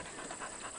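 Quick, steady panting from a dog, close by and fairly soft, with a faint breezy background hiss.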